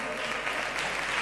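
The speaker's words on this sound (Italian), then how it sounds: "Un applauso alla pittura intuitiva di Antonietta Righetti, Anna Cotroneo" Audience applause for intuitive painting artists at a mystic cabaret show, a dense, steady wash of clapping hands from a crowd that stays loud and even throughout.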